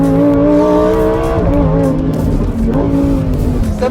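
Lamborghini Huracán STO with its 7-speed dual-clutch gearbox pulls hard on a race track, loud and close, its engine note climbing in steady rising harmonics with a brief dip midway, no talking.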